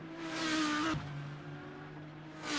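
A race car lapping the Nürburgring in a GT World Challenge session, its engine droning steadily at a distance as it exits a technical section toward the long straight, with a brief shift in pitch midway.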